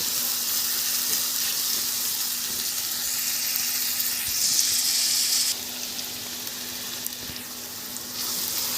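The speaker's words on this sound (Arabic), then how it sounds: "عندي البصل بيتشوح بالشكل ده" Onions sautéing in a pan for an Egyptian egg omelette give a steady, close sizzle that hisses continuously, with a faint hum underneath and slight shifts in intensity.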